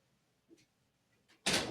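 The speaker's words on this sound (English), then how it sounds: "Close the door." A door closes with a sudden loud thump followed by a brief rattling tail, preceded by a couple of faint quiet knocks and near silence.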